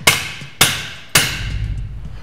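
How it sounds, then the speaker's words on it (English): Hammer striking a chisel to tighten the yoke lock nut on a Fisher 657 actuator fitted to a sliding stem valve: three sharp, loud metallic blows spaced about half a second apart, each followed by a brief ringing decay. "tighten down your yoke lock nut using a hammer and chisel"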